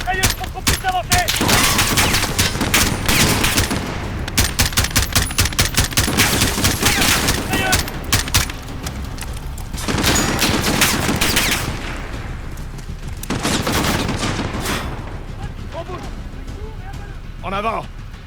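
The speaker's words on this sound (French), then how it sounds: "On a un mitrailleuse au premier!" Sustained machine gun bursts and overlapping gunfire in a Call of Duty: Modern Warfare (2019) battle, loud and dense with brief lulls, while soldiers shout orders in French over the shooting.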